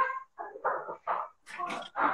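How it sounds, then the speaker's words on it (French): Several dogs barking in bursts at a house during a live cooking session, a handful of sharp barks and yelps spread over about two seconds, moderately loud and fairly near. "du coup, les chiens aboient"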